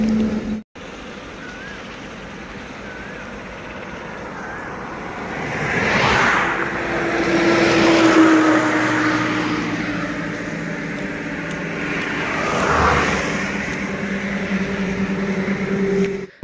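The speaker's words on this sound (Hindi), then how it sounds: "और बहुत ही गाड़ी जा रहा है" Vehicles on a highway sweep past one after another, two louder passes swelling and fading over a steady roadside rumble, fairly close by.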